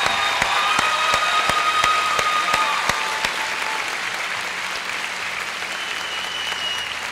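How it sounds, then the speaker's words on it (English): Applause from the audience for the top graduates standing at the Brownsville Early College High School 2016 commencement ceremony, a steady wash of many hands clapping that holds for several seconds, with a few louder claps standing out near the start. "Let's give them a well deserved round of applause."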